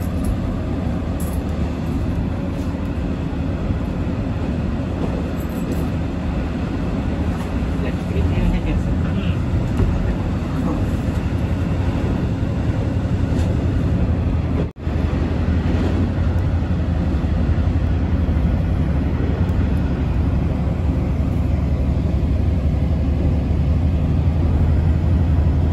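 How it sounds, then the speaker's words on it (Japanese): The Kaisoku Ryuto Shu*kura diesel railcar runs fast on the Shinetsu Line, heard from inside as a constant low roar and rattle that swells slightly midway, with occasional voices. "すげえ早い、結構意外と飛ばしますよこの電車。"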